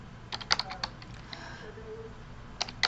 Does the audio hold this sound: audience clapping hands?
no